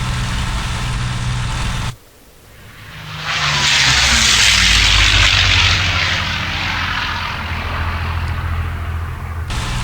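A P-40M fighter's propeller engine drones steadily in the IL-2 combat flight game as the plane comes in to land, a brief dip in power giving way to a loud, sustained roar that holds to the end.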